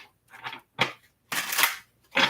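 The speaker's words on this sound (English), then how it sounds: "All right, last shuffle." A deck of tarot cards shuffled by hand during a reading, giving four short bursts of riffling and crackling card noise with brief pauses between them, close and fairly quiet.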